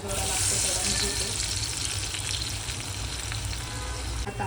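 Dal vada batter sizzling on a hot griddle, a dense, steady crackling hiss filling the whole stretch at an even level, with some faint background clatter.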